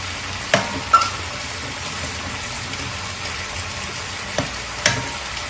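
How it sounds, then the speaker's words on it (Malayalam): Stirring the second extract of coconut milk into a salmon curry with coconut-cashew gravy: a few soft spoon knocks against the pot stand out over a faint, steady simmering hiss. "ഇനിയിപ്പോൾ നമുക്കിത് 2ാം പാൽ ഒഴിച്ച് കൊടുക്കാം. കുറച്ച് ഒഴിച്ചിട്ട് ഇത് മിക്സ് ആക്കാം."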